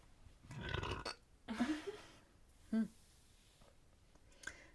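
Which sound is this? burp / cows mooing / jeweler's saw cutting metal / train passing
burp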